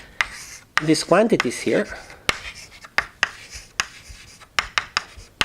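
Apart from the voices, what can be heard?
writing on a board during a lecture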